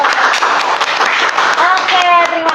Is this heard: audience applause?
yes